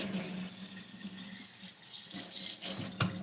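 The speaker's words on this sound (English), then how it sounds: "I'm going to wash the bowl out." Hot water runs from a tap into a bowl being washed out in a sink, a close, fluctuating splash and gurgle that gets choppier and louder as the bowl is moved.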